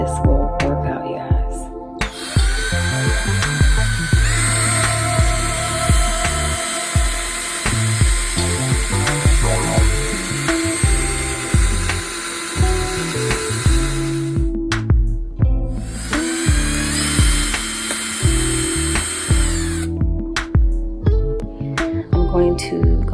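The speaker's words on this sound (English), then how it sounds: "Going to go to the next largest drill bit to increase the size of the hole." Power drill boring out a hole in the metal plate of a swing arm heat press, stepping up to a larger bit; steady whining grind runs nearly continuously with two brief pauses, close and loud.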